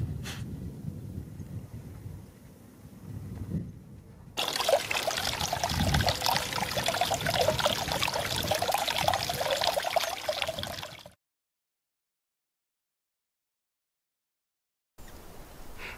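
Water from a pumped waterfall into an off-grid pond pours and splashes steadily for several seconds after a quieter start with low rumbling, then cuts off abruptly to silence.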